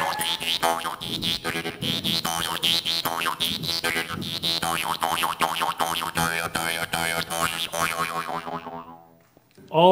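A Dan moi metal jaw harp twangs steadily in the mouth, its buzzing reed shaping changing vowel-like tones in a quick, rhythmic pattern for several seconds before fading out.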